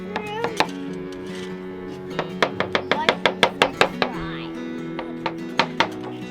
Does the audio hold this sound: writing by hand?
no